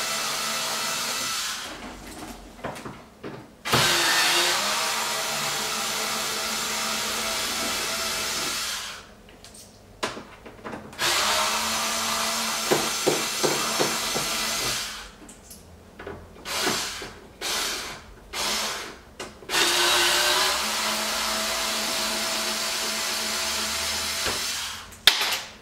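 A power tool whirs in repeated bursts as screws come out of a carbon fiber front splitter, alternating with quieter rubbing and handling sounds between runs.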